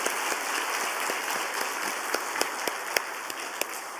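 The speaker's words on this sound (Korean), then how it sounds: "박수하겠습니다." Congregation applause at a Wednesday church worship service, a steady dense clapping of many hands with a few sharper individual claps standing out, moderately near and continuous throughout.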